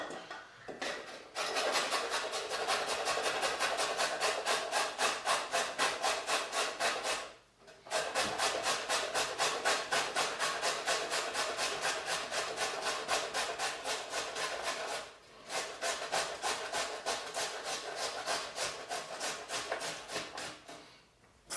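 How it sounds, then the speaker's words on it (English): Cabbage grated for coleslaw on the coarse side of a box grater, a close, steady run of fast rasping strokes that pauses twice briefly before carrying on, with no talking. "Take your grater and you use the big part here just to do it."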